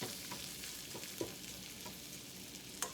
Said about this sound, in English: Cooking the shrimp for about 5 to 8 minutes or so.